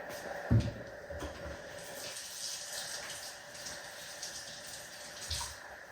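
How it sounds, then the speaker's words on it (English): A tap runs steadily as a finger is rinsed under the water in a kitchen while making bread, a soft continuous splashing stream with a couple of brief clunks, fairly quiet and close. "had to rinse off my finger there"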